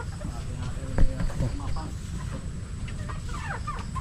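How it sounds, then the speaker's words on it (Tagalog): A farmyard chicken clucking nearby on grassy ground, short clucks over outdoor background noise, with a louder burst near the start while a person talks. "Yan ang manok ko."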